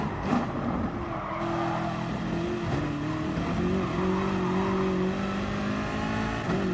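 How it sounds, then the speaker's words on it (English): BMW race cars in a sim racing video game, steady engine whine shifting pitch with tire squeal and skidding, loud and continuous as the cars battle closely, with no talking over it. "So now Theo within 1 second, using that slipstream to his advantage."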